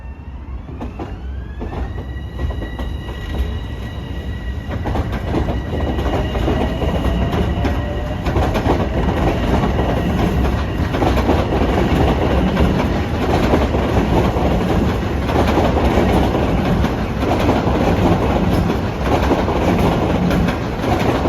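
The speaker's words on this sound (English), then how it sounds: "If you love the sound of pounding joints, this end of the station at Valley Stream is terrific." A Long Island Rail Road train passes over pounding rail joints at Valley Stream station. A horn-like tone at the start gives way to a loud, continuous roar with rhythmic clatter from wheels striking the joints.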